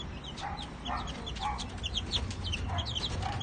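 Sweater Escolin line chickens, about five months old, give repeated short clucks and soft calls close by, spread irregularly over steady low farmyard background noise.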